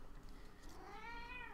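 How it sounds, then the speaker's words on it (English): A house cat gives a single drawn-out meow, fairly faint and close, with a rising-then-falling pitch over a quiet room background. "I think the cat's ready too."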